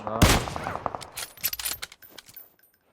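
Gunfire in an online video game shooter: a sharp burst at the start followed by scattered quicker shots and clicks that thin out toward the end, moderately loud with no clear talk.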